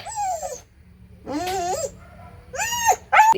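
A dog whines in high, wavering cries, then gives a few sharp barks and yips, close by, with short pauses between bursts.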